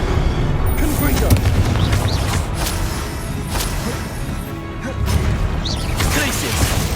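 Spell explosions from Confringo cast in the video game Hogwarts Legacy, a run of loud booming blasts and crashes over a dense, continuous layer of game combat noise.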